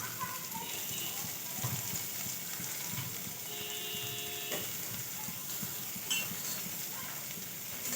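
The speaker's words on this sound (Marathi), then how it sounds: "यात आपण आता कांदा ॲड करणार आहोत." Onion and garlic frying in a pan, a steady close sizzle running throughout with a brief clink partway through, under background voices.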